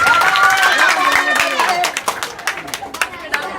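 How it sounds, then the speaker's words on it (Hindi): School children clapping together in a classroom, a dense burst of many small hands that thins into scattered separate claps, with children's voices chattering over it. "चलो ताली बजाओ और बाय बाय।"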